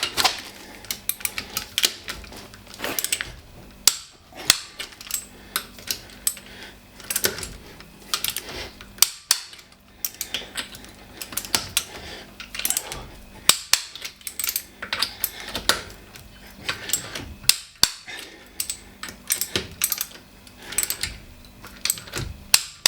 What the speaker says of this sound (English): I have got my torque wrench sent to 120 Newton meters, so I'm gonna just check them all.